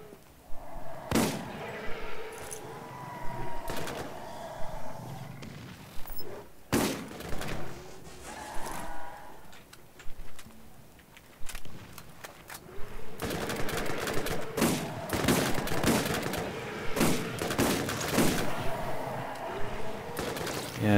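Shotgun blasts fired at range in the co-op shooter Borderlands, several sharp booming shots scattered through the scene with a denser stretch of rapid gunfire toward the end, mixed with game effects.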